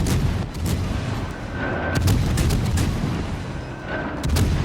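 Heavy naval gunfire from World of Warships: Legends, armor-piercing shells striking a ship, a dense, continuous rumble of booms and impacts that swells and eases, loud and close with no talk.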